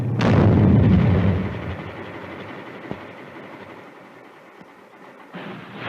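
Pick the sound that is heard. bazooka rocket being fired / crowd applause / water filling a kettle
bazooka rocket being fired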